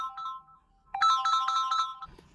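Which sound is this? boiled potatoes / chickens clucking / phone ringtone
phone ringtone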